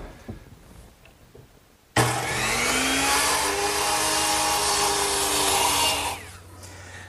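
Power router rounding over the top edge of a 2x4 board on a miter box for a garden bench: a sharp start into a loud, sustained whine with a rising tonal pitch, running about four seconds before spinning down.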